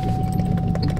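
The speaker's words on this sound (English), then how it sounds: "Hand me the keys to the SS." A bunch of keys for a Mustang SS jangling close by in a brief metallic shake over a low steady car rumble.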